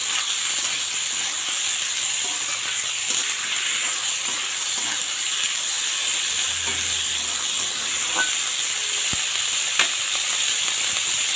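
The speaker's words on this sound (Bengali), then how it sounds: "তো এটা এখন ভালো করে এপাশ ওপাশ করে একটু ভেজে নেব।" Greens (shak) fry in a pan for a chorchori dish, a continuous bright sizzle and steam hiss carrying throughout, with a few faint stirring scrapes and clinks mixed in.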